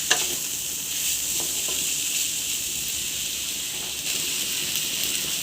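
Pumpkin leaf tips and jackfruit seeds fry in a pan with a steady, close hiss and sizzle, while a spatula occasionally scrapes and stirs through the mixture.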